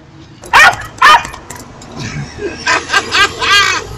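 A dog gives two sharp, loud barks, then a run of quicker yips and whines, with a voice speaking over part of it.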